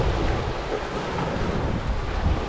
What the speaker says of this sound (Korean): 파도 소리가 정말 바로 눈앞에서 펼쳐지니까